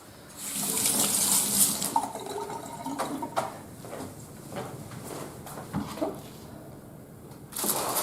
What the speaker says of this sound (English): I'll just give those a quick rinse.